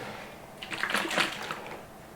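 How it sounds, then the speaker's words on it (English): Water sloshes faintly inside a plastic food storage container with an airtight lid, giving a short, soft splashing burst that swells and fades. "I'm gonna go put some water in this and do a little water test"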